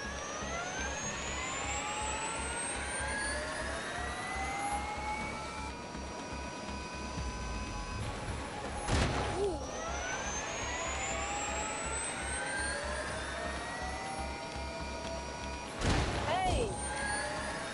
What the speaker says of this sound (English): let's find out how fast your beloved Neo goes round the Ebola drone